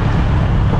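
Floodwater surges during typhoon Uwan near an overflowing floodgate, a loud, close, steady rushing roar mixed with heavy wind buffeting the microphone.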